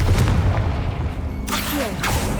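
Confringo spell explosions in Hogwarts Legacy boom out loudly, two sharp blasts in quick succession over continuous combat noise, with a voice speaking underneath.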